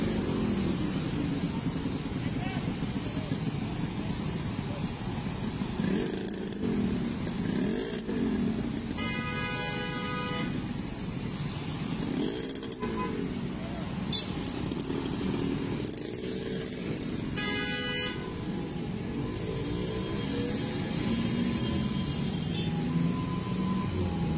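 Traffic at a five-way road junction in Ambon, with a continuous rumble of cars and motorcycle engines passing and idling, a few rising and falling engine notes, moderately distant and unbroken.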